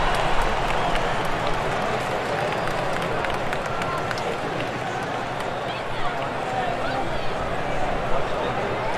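A stadium crowd in the MLB 2K7 baseball video game, Detroit Tigers against Boston Red Sox, roars and murmurs steadily throughout, with scattered claps and a commentator's voice talking over it.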